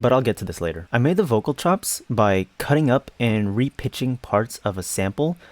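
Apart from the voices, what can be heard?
No everyday noises stand out.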